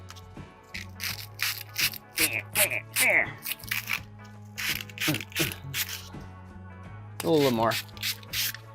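Wooden drumsticks being sanded by hand, a series of short rasping rubbing strokes close up, with a steady low hum underneath and a voice speaking briefly.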